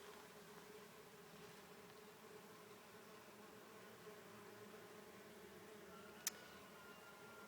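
Faint, steady insect buzzing from several solitary bees mating outdoors in early spring, a low continuous drone with one sharp click near the end.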